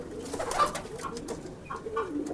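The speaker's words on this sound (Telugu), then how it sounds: "ఇవి మాత్రం నిజంగా చాలా పెద్ద పెద్ద పావురాలు" Deep, throaty pigeon coos repeat a few times close by, soft and rolling, with no one speaking.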